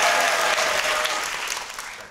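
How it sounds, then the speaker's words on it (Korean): Audience applause at an opera performance of Così fan tutte at a Korean opera festival, a dense sustained burst of many hands clapping that fills the whole moment and eases slightly toward the end. "자, 박수"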